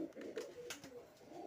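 Pigeons in a coop, two hens sitting on four eggs beside a cock, give soft, faint low cooing murmurs close by, with light rustling and no talking.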